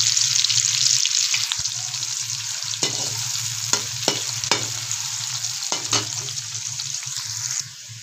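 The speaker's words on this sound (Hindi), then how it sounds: "पहले हम ऐड करेंगे इसमें प्याज, जिससे प्याज को आपने अच्छे से ब्राउन करना है।" Onions fry and brown in a pan for an arbi gravy, a steady close sizzle with occasional stirring scrapes and clinks, no voices.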